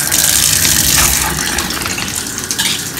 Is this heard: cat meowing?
no